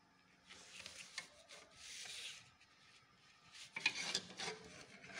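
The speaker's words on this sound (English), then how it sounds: "I'm using this as my French curve, and I'm going to draw them out one by one now." A pencil drawn along a French curve traces a cycloid on paper, faint scratchy rubbing strokes in separate bursts, close and quiet with nothing else around.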